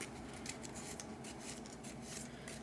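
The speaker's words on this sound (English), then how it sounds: "Reset deck so everything gets shuffled." Cards from the Senjutsu board game deck are shuffled, a faint, steady rubbing and riffling close by with quick repeated flicks.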